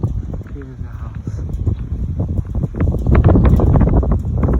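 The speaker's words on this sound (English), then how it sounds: "Windy in the area." Wind buffets the microphone outdoors at the 2003 Texas Chainsaw Massacre filming location, a steady rumbling roar that builds toward the end, while someone talks.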